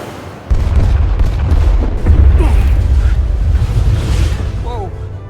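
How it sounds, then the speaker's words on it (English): Torpedoes fire in Star Trek: Resurgence, a sudden loud low boom followed by a sustained heavy rumble with mechanical creaks and whooshing tones layered over it, close and dense for several seconds. "Firing torpedoes."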